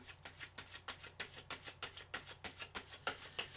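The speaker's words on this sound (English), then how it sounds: "Sorry, I need another shuffle." Tarot cards are riffled and shuffled in a quick, regular rhythm of soft papery flicks, close and fairly quiet, repeating about every third of a second.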